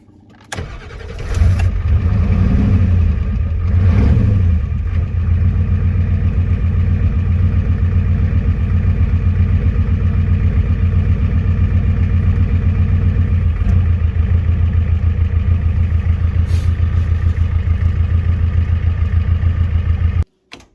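A 1990 Ford F-250 with the 7.3 IDI diesel starts and then idles steadily and loudly up close, a continuous low rumble that runs on alone before being shut off at the end.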